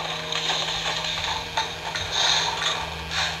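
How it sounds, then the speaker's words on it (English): A plastic toy's emergency lever is pulled down to drain liquid from a container, giving a close, rough ratcheting, grinding and rubbing in short bursts that swell and fade. "Pull down the emergency lever to drain the liquid."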